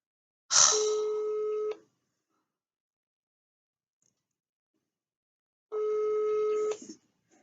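Phone call ringback tone, two long electronic rings about a second each separated by several seconds of silence, clear and close.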